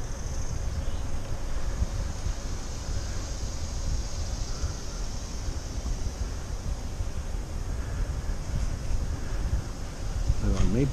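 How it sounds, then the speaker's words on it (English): A steady, high-pitched drone of cicadas hums continuously over low rumbling wind noise while cycling the Sugarland Run Trail in Herndon, Virginia, with a brief louder gust near the end. "I hear the cicadas."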